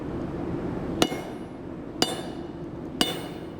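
Three sharp, evenly spaced hammer blows ring out on a blunt-edged anvil, flattening a knife blade over a low background hum.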